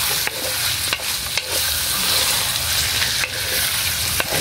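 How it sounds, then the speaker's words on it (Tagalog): Sautéed chayote with ground meat being stirred in a hot pan, a steady loud sizzle with a few distinct scrape-and-clack strokes of the spatula at close range. "At halo-haloin po natin"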